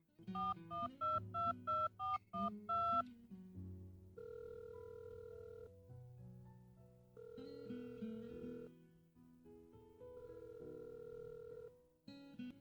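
Telephone keypad being dialed to place a call: a quick run of about eight distinct tones, then a longer sequence of sustained electronic tones and melodic beeps from the phone, with no talk.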